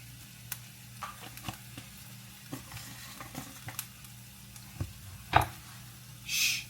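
Garlic fries in a pan for teriyaki chicken fried rice, a quiet, steady sizzle with a few soft clicks of stirring and one louder scrape near the end.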